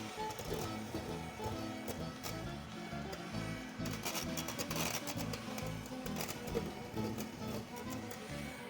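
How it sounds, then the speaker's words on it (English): Tiramisu cream thickening in a bowl is whisked in a steady, dense churning texture that continues without a break at moderate, even loudness. "like you can tell I have trouble to whisk them"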